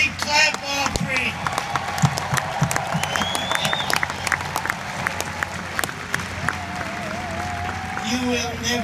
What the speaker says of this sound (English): Somebody welcome him by giving him a big clap offering.